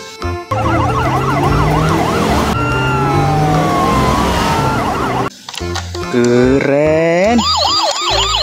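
Toy ambulance siren wailing and warbling loudly in several changing electronic patterns, cutting off briefly midway, with a short spoken word over it.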